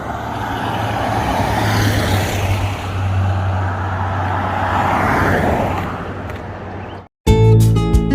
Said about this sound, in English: It's a pretty busy road, this 19E, and some trucks came whizzing by